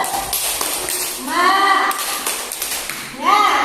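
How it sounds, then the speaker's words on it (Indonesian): A group of participants at a teacher training session does a rhythmic spirit-clap routine, with short bursts of patterned clapping mixed with voices calling out together at close range. "coba kita tepuk semangat dulu semuanya biar semuanya semangat ya"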